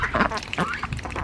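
Pet ducks quacking in a backyard, several close, chattering calls in a quick run over about a second, with faint talk mixed in.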